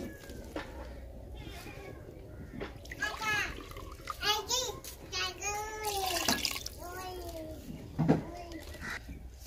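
Water is poured into a cooking pot for chicken soup in a village kitchen, with a steady splashing stream under lively voices, children chattering and a cat meowing close by.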